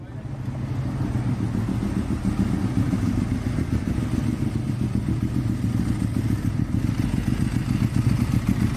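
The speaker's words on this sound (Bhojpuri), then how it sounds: "देखो मोटरसाइकिल वाला आवता बिना हेलमेट के" A motorcycle engine drones loud and close at a roadside traffic checkpoint with a barricade, swelling in the first second and then holding a steady, rumbling, slightly clattering roar to the end.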